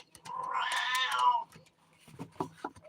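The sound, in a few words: person imitating a cat meowing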